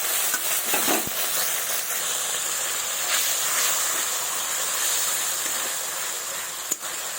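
Water is poured into a spice paste frying in a pan for a fish curry. A steady, close sizzle and hiss runs throughout, with a few faint clinks of a utensil.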